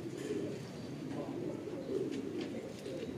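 Racing pigeons arriving home to their loft in the rain, giving steady low cooing calls close by over a soft patter of rainfall.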